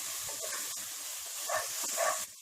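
Garlic paste frying in a pot over golden-brown onions for Ambur chicken biryani, a brief steady hiss of sizzling oil with slight swells near the end.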